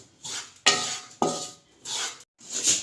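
Flaxseed flour roasting in ghee in a pan, heard as a series of scraping stirs of a spoon against the metal with soft sizzling between them, close and fairly loud.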